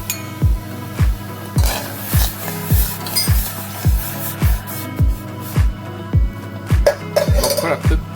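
A spoon stirs boiled milk into tea in a metal pot, Parijat Hotel & Restaurant style, giving a steady run of about fourteen rhythmic clinks and scrapes against the pot, close and fairly loud.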